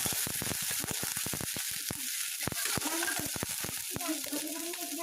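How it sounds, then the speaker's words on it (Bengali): Garlic and onion paste fries in oil in a pan, a bright close sizzle broken by rapid spattering pops and stirring scrapes, with a voice talking softly underneath. "রসুন বাটা পেঁয়াজ বাটা দিয়ে পেঁয়াজ রসুনটাকে একটু ভেজে নেব"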